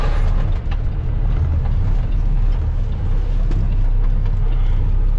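Jeep CJ5 crawling in four-wheel drive, its engine a loud, steady low rumble and drone close to the microphone, with wind buffeting and faint rattles throughout.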